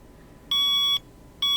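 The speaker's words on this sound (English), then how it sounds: "Annoying alarm clock!" Alarm clock in the video game Seduce Me, two loud electronic beeps, the first about half a second long and the second starting just after, clear and close with no voices.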